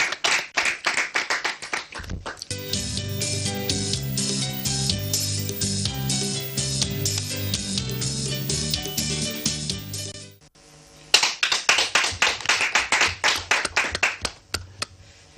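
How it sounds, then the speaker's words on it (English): Competition audience clapping at an NTA Live show: a dense, steady round of hand claps over a music bed for about ten seconds, a brief lull, then a second burst of sharp, rhythmic clapping. "Give them another round of applause, please."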